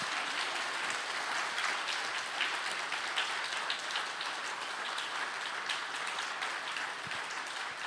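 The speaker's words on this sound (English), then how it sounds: "Can we just please clap hands for the 2 finalists?" An audience claps steadily for two finalists at the 2024 Yidan Prize education event, a dense, even wash of applause heard from some distance, with no voices over it.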